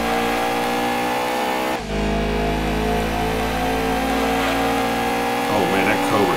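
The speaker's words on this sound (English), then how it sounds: "that is not what that car sounds like" A racing car engine in the Gran Turismo 2 video game drones at a steady, loud pitch, shifting after a brief gear-change dip and rising again toward the end.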